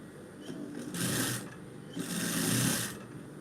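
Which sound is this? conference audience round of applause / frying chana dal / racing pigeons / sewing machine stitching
sewing machine stitching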